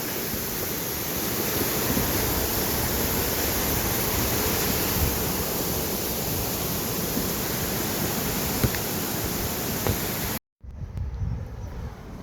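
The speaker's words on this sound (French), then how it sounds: "On croise une jolie cascade." Waterfall along the GR10 hiking trail in the Pyrenees, a constant loud broadband rush of falling water filling the scene, with a brief dropout near the end before it resumes.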